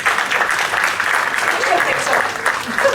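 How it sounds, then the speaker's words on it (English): Steady, dense applause from an audience of parents at a school orientation fills the whole stretch, with no pauses, bright and close. "Let's give him a big round of applause."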